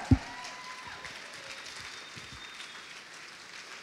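A church congregation keeps clapping during a baptism and salvation altar call, a steady wash of many hands after a sharp thump at the start, moderately loud with faint tonal sounds from the room.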